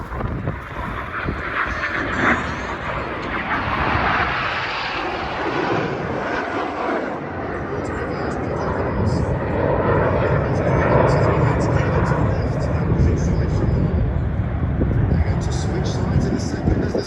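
Red Arrows aerobatic jets banking in formation at an airshow at Duxford, a loud continuous jet roar that swells and shifts as the aircraft pass, with a voice speaking over it and some wind noise.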